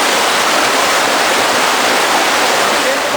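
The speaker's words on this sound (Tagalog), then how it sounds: "nahihirapan si Andrew at Flagel dahil sa rumaragat ang tubig." Fast-flowing river water near Pinatubo rushes loudly and continuously as a dense, steady roar of churning water close by.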